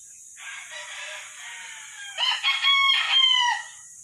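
Mt. Banahaw chickens on a farm: a short run of clucking gives way to a rooster's loud, close cock-a-doodle-doo in the second half, with no talk over it.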